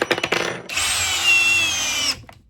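A Ridgid cordless drill in drill mode at speed 2 whirs steadily for about a second and a half, loud and close, then spins down, after a few short clicks at the start.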